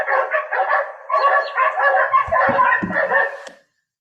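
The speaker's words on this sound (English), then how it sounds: "how long does the barking last?" A dog at a doodle puppy mill barks and yips rapidly and almost continuously for a few seconds, with a couple of dull thumps near the end before it stops.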